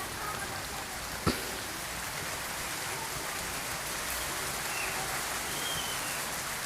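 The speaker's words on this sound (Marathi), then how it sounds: "छान आहे का पाऊस" Steady rain hisses evenly on surfaces, a constant wash of drops with one brief sharp knock early on, during the first rain of the season with water flooding into a house.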